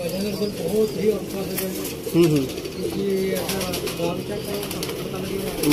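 Golden pigeons kept by pigeon fanciers in Sialkot coo and call in a steady, fairly close chorus, with people talking over the birds throughout.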